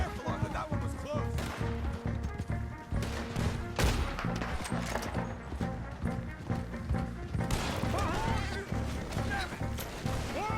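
Gunfire in Red Dead Redemption II during a chaotic shootout: rapid, overlapping shots and cracks keep coming at close range, under shouting voices.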